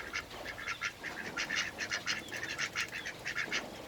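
Ducks quacking repeatedly and fairly close, a busy run of nasal honking calls in quick irregular bursts over faint outdoor background noise, with no talking.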